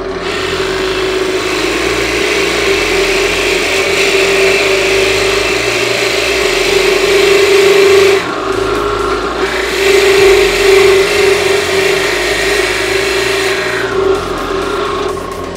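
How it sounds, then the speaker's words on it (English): A loud drill with a Forstner bit grinds steadily into wood with a droning hum, its pitch dipping briefly under load twice before recovering. "we'll do some Forster bit drilling"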